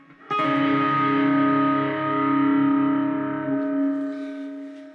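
An electric guitar with distortion, chorus and echo effects plays part of the chorus of a song: a single strummed chord rings out loud and sustained for several seconds, then fades into a reverberant tail, with no voices.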